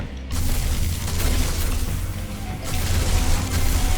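A plasma bomb explodes in the video game Yet Another Zombie Survivors: a deep boom bursts out and rolls on with mechanical clanking and rumbling, loud and sustained for several seconds.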